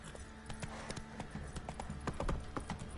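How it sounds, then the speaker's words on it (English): Hooves clop at a steady walk as a horse moves through a scene in The Witcher 3 video game. The hoofbeats are distinct and regular, set over a constant wash of game ambience. "Time to water the horses."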